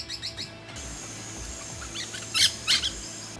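Birds sing along the Purus river in the Amazon rainforest at Lábrea, with a few sharp chirps early on and brighter, louder bursts of song later over a steady background of forest ambience.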